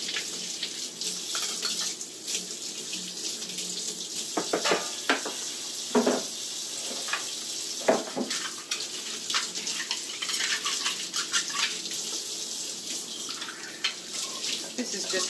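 Water runs from a tap in a steady splashing stream, with intermittent clatter and bumps of handling nearby while bottling goat's milk.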